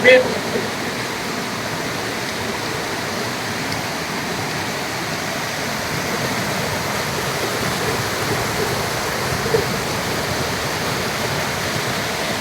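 A Malenadu stream or waterfall pours in a steady, unbroken broadband rush, close and fairly loud, holding evenly throughout with no voices.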